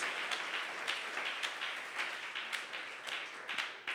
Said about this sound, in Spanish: Denle un fuerte aplauso al Señor Jesús